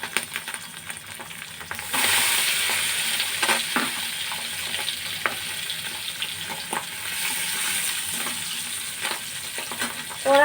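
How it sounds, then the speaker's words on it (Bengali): Pabda fish sizzle steadily as they fry lightly in oil in a small kadai, a continuous close hiss that swells louder around two seconds in, with occasional soft clicks and stirs throughout. "এবারে একে একে মাছগুলো হালকা ভেজে নেব।"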